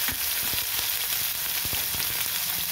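Ginger and garlic paste with asafoetida frying in hot oil, a steady dense sizzle with a few soft clicks of a spoon against the pan throughout, close and continuous with no voices.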